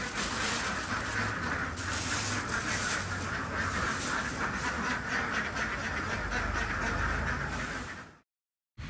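A dense flock of baby Muscovy ducks kept inside a building quack and peep continuously, a loud, busy chorus that fills the space before cutting off abruptly near the end.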